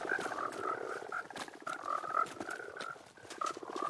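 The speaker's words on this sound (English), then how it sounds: "So right here we got a whole bunch of green frogs ready to go." Green frogs in a Minecraft mangrove swamp croak in steady repeated bursts, a dense overlapping chorus of nearby calls with no talking.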